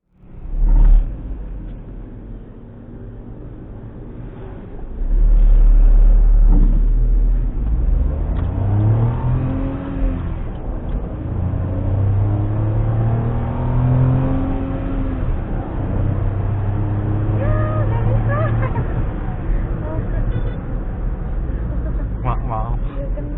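A Suzuki S-Presso in D mode revs up hard and climbs through the gears, its engine note rising and dropping with each shift. The engine is loud and close, in a steady drone with some talk over it.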